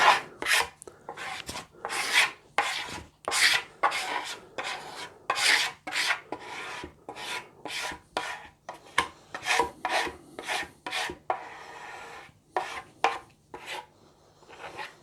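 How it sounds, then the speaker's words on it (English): Repeated rasping scrapes drag back and forth in a steady rhythm, a stiff tool scraping wood finish into the grain of a scratch-built guitar, close and fairly loud, with brief pauses between strokes. "I'm going to scrape it right into the grain"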